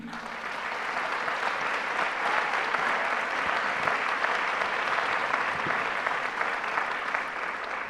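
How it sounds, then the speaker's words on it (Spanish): An audience applauds steadily and loudly at a talk by Francesco Tonucci in San Martín, a dense wash of clapping that holds evenly for several seconds. "con un muy fuerte aplauso, recibimos en San Martín"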